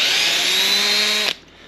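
A power drill with a 1/16 bit whines steadily through the metal roof of a 2022 Toyota Tundra during a roof rack install, loud and close for about a second, then stops abruptly, leaving quiet room tone.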